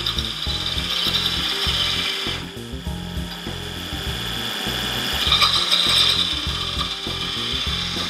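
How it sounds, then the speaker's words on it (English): A pointed three-point tool cuts a small border into wood spinning on a lathe, a steady close scraping rub with a low rhythmic rumble from the turning piece, rising briefly in intensity midway. "use something like this three-pointed tool to cut a little border on each side of those three bands"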